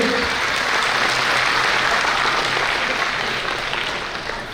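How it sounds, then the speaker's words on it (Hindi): An audience at a Kutch Meena community gathering and biennial convention claps loudly and steadily to welcome an MLA, a dense, sustained wave of applause that carries on for several seconds before tapering slightly at the end. "ताली बजाकर उनका भी एक बार जोरदार स्वागत करेंगे"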